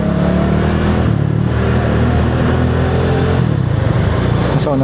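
An old yellow motorcycle runs ahead in traffic, its engine a steady mid-pitched drone mixed with surrounding car engine rumble, continuous and fairly loud throughout with no talk.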